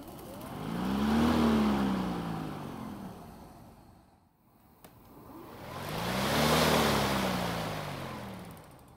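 A DeWalt battery lawn mower with a start-then-stop fault spins up, hums, and winds down to near silence, then starts and fades again, heard close with no talking.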